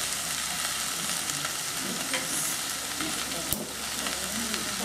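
Yard long beans and aubergine fry in a pan over a gas flame for a saag, giving a steady dense sizzle with scattered spits and pops, plus one sharp click partway through.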